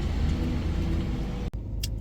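Steady low road rumble from inside a moving car, with a brief dropout partway through and a faint high hiss near the end; no one speaks.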